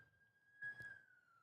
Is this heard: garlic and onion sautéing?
no